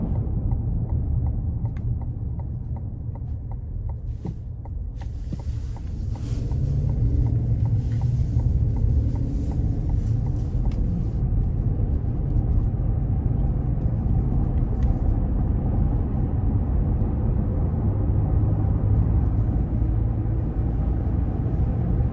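A 2022 Cadillac Escalade Sport accelerating up a bumpy ramp onto the interstate, a deep steady road rumble and engine drone from inside the cabin that grows fuller and stays constant.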